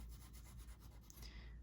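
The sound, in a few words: coloured pencil sharpened on a sanding block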